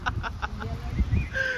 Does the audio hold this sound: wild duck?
yes